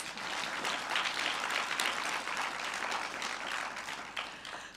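A conference panel audience claps for several seconds in a dense, steady round of applause that fades slightly at the end.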